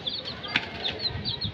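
Chickens in a rooftop coop jump and flap their wings in a brief, close flurry of beating feathers, with one sharper thump midway.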